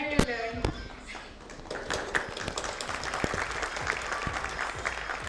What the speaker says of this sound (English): Let's have a round of applause for both of them once again